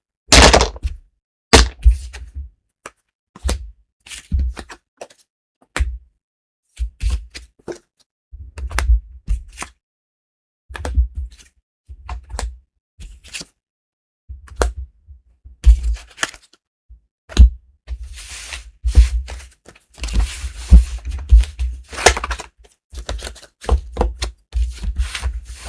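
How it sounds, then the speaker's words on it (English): A deck of tarot cards being shuffled by hand on a table, heard as a long run of quick riffling bursts and soft taps, close and crisp, with short silent gaps between the bursts. "Need to shuffle the cards for Libra"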